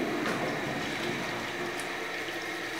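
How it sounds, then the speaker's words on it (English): Water from a toilet flush sheeting down the wall of a drain stack, a continuous mid-level rushing wash that stays steady throughout with no talking. "So you can see the water actually sheets to the wall. It doesn't actually go down until it hits this wall and just sheets going down the stack."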